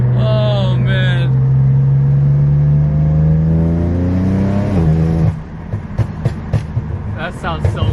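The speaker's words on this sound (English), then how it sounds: "Because this thing is popping like no other." BMW F80 M3 with catless downpipes gives a loud close exhaust drone that falls away, then sharp pops and burbles crackle in quick bursts on the overrun.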